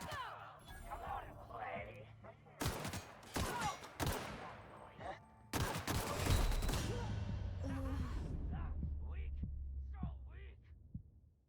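Gunfire in The Outer Worlds during a street shootout against enemies with automatic weapons: several loud bursts of rapid shots followed by a lingering low hum and softer game effects.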